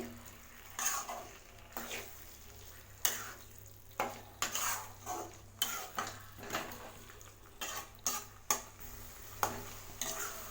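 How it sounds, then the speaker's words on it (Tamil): Tomato and curd gravy mixed in a pan, a series of sharp spoon scrapes and taps against the metal recurring roughly every half second to second over a low sizzle, close and quiet, no talk. "இதை நல்லா மிக்ஸ் பண்ணி விடுங்க."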